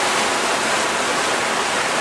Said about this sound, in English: Here the water is rushing out